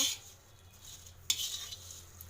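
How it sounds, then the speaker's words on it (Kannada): Okra with salt and chili powder is stirred in a pan on a tawa, with soft scraping and a sharper clink of the utensil partway through, close and fairly quiet. "ಅಚ್ಚ ಖಾರದ ಪುಡಿ ಹಾಕ್ಕೊಂಡು ಮಿಕ್ಸ್ ಮಾಡ್ಕೊಳ್ಳೋಣ ಒಂದು ರೌಂಡು"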